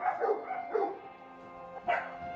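Dogs bark at a rundown Myanmar animal shelter housing Dalmatians, a German Shepherd, a hound and Golden Retrievers; several short barks and yips come in separate bursts, moderately distant, over a steady background hum.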